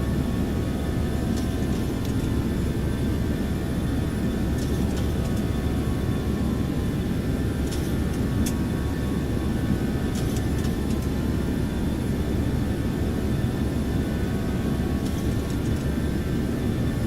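Boeing 737-700 engines in flight in the X-Plane 12 simulator, a steady loud low roar with a faint whine above it and a few soft clicks, no talking.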